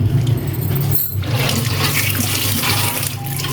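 Water runs steadily from a kitchen tap as raw meat, including breast pieces, is washed by hand in a sink, a continuous full rush with a brief dip partway through.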